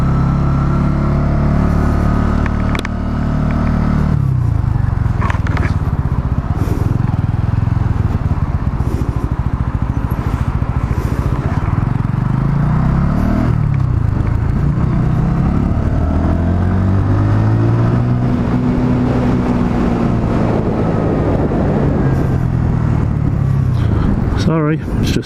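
A Sinnis Outlaw 125 motorcycle ridden around Caerphilly, its engine droning and shifting pitch with loud wind rumble throughout, while a rider talks over it.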